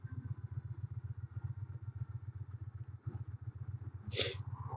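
An Indian Challenger motorcycle's engine drones low and steady with a pulsing throb while decelerating under compression braking on a broken road, a brief sharp burst of another noise cutting in near the end.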